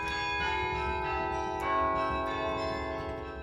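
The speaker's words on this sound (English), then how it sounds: "This musical device is called a carillon, a keyboard connected to dozens of bells to create music." A carillon, a keyboard instrument linked to dozens of bells, rings out a steady, sustained chord of overlapping bell tones that swell slightly midway and keep resonating without pause.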